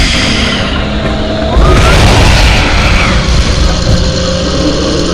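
A spell explosion in the Harry Potter and the Prisoner of Azkaban video game bursts into a loud, broad boom about a third of the way in, then rumbles on over a steady droning game background.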